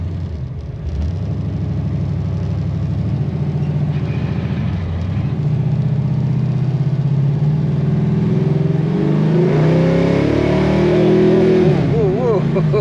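A 1968 Chevelle SS with a big block 454 V8 rumbles deep and loud close by, then revs and accelerates with rising pitch toward the end. Voices talk over the engine.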